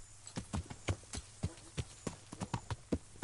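Horse hooves clip-clop in the medieval Bohemian countryside of Kingdom Come: Deliverance, a steady walking rhythm of close, crisp thuds repeating throughout over a low background hum.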